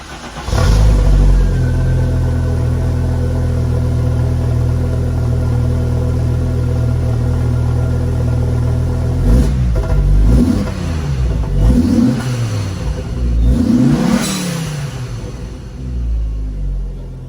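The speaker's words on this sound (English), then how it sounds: "the sound that this engine makes" A classic Audi Quattro engine idles with a deep, loud rumble, then is revved three times in quick succession, each surge rising and falling before settling back to idle. No voices are heard.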